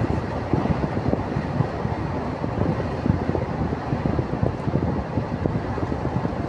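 Steady, rough wind in a wide desert in Hail, Saudi Arabia, buffets the microphone in gusty, rumbling bursts, loud and constant throughout with no voices.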